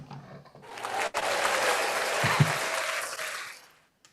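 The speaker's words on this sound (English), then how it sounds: "some applause" A steady wash of applause sound effect rises quickly, holds for a few seconds, then fades away.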